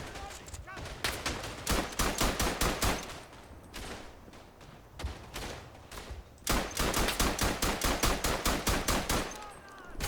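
Rapid hip-fired rifle or machine-gun bursts in a Verdun World War I battle, two long strings of sharp, close shots separated by a brief lull with scattered distant fire.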